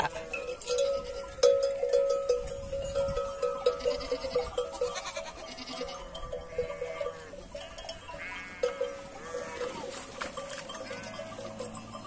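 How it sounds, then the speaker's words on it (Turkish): Young goat bleating repeatedly in short, wavering cries, close and fairly loud, with irregular pauses between calls and a faint bell-like clinking in the background. "Bu küçük teke."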